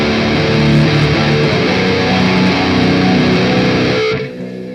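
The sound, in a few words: distorted electric guitar power chord rhythm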